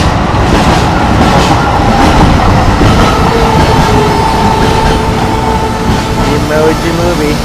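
An LA Metro Blue Line train bound for Long Beach rolls past on the tracks in Los Angeles, a loud, close, continuous rumble with wheel clatter that holds steady for the whole stretch.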